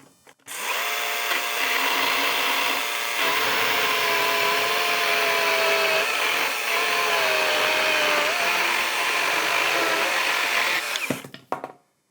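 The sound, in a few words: electric chainsaw cutting pressure treated hemlock beam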